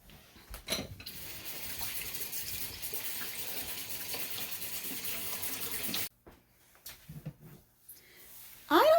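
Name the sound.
tap water running over frozen pasta sauce containers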